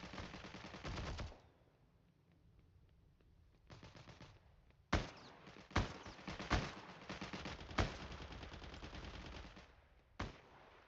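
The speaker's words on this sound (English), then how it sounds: "Mistake on my part, not shooting for the head" Bursts of gunfire from the Heroes & Generals video game: a long automatic volley, then sharp separate shots and short bursts at irregular intervals, loud and close, with no talking.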